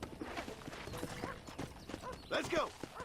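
Hooves clip-clop in a quick rhythm as a horse moves along in Red Dead Redemption, mixed with game ambience and a brief whinny-like sound near the end, under a man's speech.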